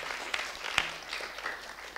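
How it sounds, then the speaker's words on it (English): A small crowd at a university presidential mock debate in Latvia gives a brief round of applause, soft scattered clapping with one sharper clap near the middle. "Let's give us small applause."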